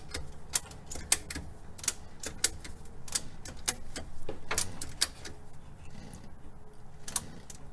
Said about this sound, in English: Now I'm going to begin to ratchet, and you'll see that draw over.